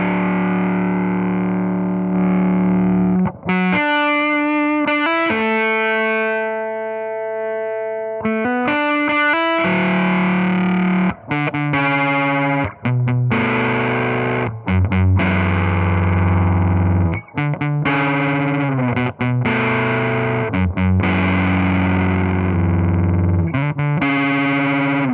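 Electric guitar on the bridge pickup played through an EHX Op Amp Muff fuzz pedal, loud thick distorted chords and sustained single notes with pauses between phrases, no voices.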